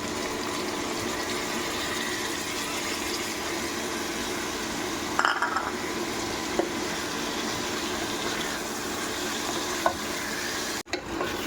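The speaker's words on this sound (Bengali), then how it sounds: "এখন আমি এই সব মশলাগুলোকে একসাথে ঢেলে দিয়ে কষিয়ে নেব।" Steady sizzle of garam masala, ginger-garlic paste, turmeric and chili powder frying in oil, with a few clinks and scrapes of a spoon stirring the spices partway through.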